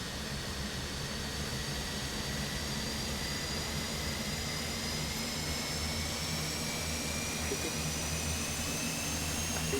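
Airliner jet engines starting in Microsoft Flight Simulator 2024, a steady broad whooshing roar with rising high whine tones, constant and even throughout with no talk.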